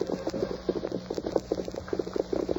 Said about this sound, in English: listen. Horses.